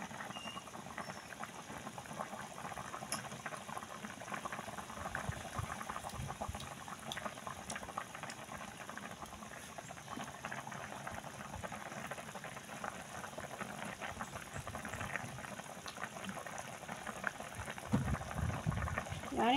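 Adobo sauce for chicken adobo boils in a pot, a steady close bubbling and popping that goes on throughout and swells slightly toward the end.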